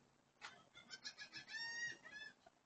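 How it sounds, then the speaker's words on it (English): Seagulls call and chatter from trees outdoors, a run of repeated squawking cries rising in a loose series over a couple of seconds, moderately faint with a steady background. "I hear them chattering out here."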